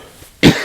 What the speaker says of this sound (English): I'm just going to cough again